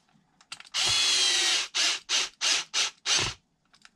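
A power drill tightens a screw on a Traxxas RC car: one long whirring run, then five short, evenly spaced bursts. The drill sounds close and loud, with no talking.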